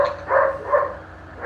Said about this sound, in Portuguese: vocês estão vendo a latida de fundo?